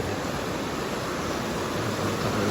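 A swollen river in Chitwan rushes dangerously fast, a steady, dense, broadband roar of churning water close by with no break and no voices.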